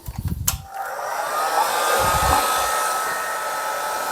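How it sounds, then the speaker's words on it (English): Heat gun blowing hot air to soften motorcycle plastics, a steady close whooshing roar that starts after a few brief knocks and then runs continuously. "I've got the heat gun here."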